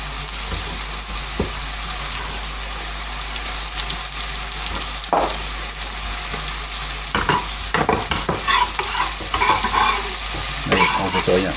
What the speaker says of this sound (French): On fait revenir cette l'échalote et les carottes, c'est un petit peu. Ensuite, on ajoute cette émincée d'endives.